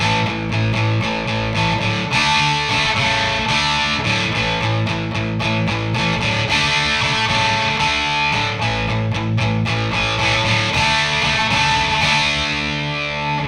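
A distorted electric guitar plays a song's verse riff slowly, steady and driving with heavy, buzzing tone, loud and continuous throughout.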